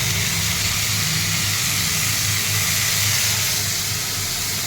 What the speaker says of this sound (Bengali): বেছে এবার দিয়ে দিলাম তেলের মধ্যে বেগুন পোড়াটা